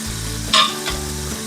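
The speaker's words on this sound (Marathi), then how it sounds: "मस्त असं थोडंसं फ्राय करून घेऊया." A quarter kilo of paneer frying in a pan gives a steady, close sizzle with low hum beneath and one brief louder hiss midway, with no talking.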